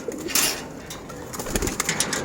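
Female pigeons coo softly among a small group, short murmuring calls over a rough, noisy background with a few sharper bursts, no talk.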